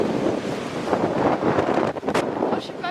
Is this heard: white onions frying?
no